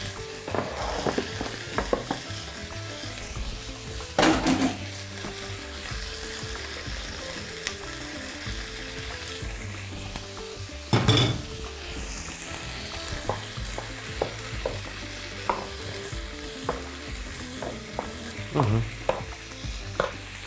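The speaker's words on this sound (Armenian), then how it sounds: "և տապակում ենք կրծքամիսը" Chicken breast sizzles in a hot pan, a steady crackling fry that runs continuously, with occasional utensil knocks and scraping as the pieces are stirred.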